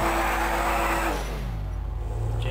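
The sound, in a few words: stolen BMW car engine in GTA V video game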